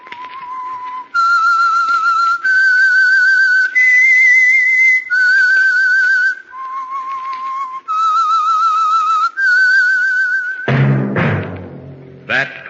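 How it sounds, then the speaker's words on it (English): A whistled theme signal for an old radio mystery program: a clear, loud melody of sustained pitched notes moves up and down in distinct phrases, then gives way to a brief voice at the end. "That whistle is your signal for the Signal Oil Program, The Whistler."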